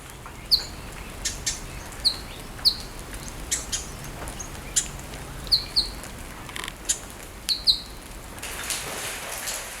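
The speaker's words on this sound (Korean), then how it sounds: "빗소리와 새소리뿐입니다." Birds in a rainy Australian forest, scattered bright chirps and short calls repeating at irregular intervals over a steady soft hiss of rain, moderately distant and fairly quiet throughout.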